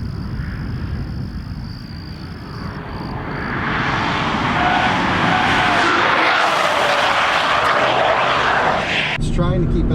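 Volvo V60 T8 Polestar Engineered driven hard on a track, a steady loud engine roar and tyre rush building midway and holding, with a person talking over it.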